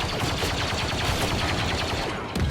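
Rapid gunfire from blasters in Star Wars Battlefront II, a dense stream of loud repeated shots running the whole time with a brief gap near the end.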